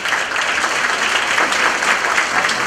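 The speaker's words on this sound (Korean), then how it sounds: "큰 박수 부탁드리겠습니다." An awards-ceremony audience claps steadily and loudly throughout, a dense, even wash of applause with no voices over it.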